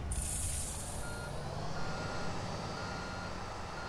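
Truck reversing beeps and a rumbling diesel engine in the video game Construction Simulator 2, with a short hiss of air brakes at the start, then continuous loud engine noise and repeating high beeps, no talking.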